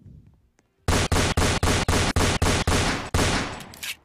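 Roblox Fortnite Simulator gameplay with a rapid burst of gunshots: about ten loud, evenly spaced shots in a quick rhythm, then a longer, fading blast, following a near-silent start.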